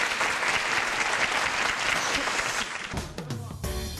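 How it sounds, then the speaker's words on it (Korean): An audience at a youth technology startup olympiad applauds the panel of judges, a loud sustained burst of many hands that thins out and fades near the end as a faint voice and stage sounds come through. "큰 박수 부탁드리겠습니다"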